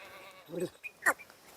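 A single Kathiawadi goat bleats once, fairly close and clear, a short wavering cry with a couple of brief softer noises before it.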